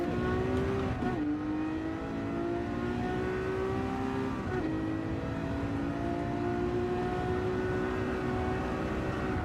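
A race car engine in the Gran Turismo 7 driving game holds a steady high drone, with a couple of brief gear-shift dips and continuous whirring road and tyre noise throughout, loud and unbroken with no voices.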